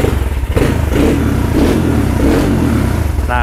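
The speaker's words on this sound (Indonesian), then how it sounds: "Kita coba starter dulu." A KTM RXF 150 Freeride motorbike engine cranks on the electric starter and catches, running loud and close with a rough, clattering idle throughout.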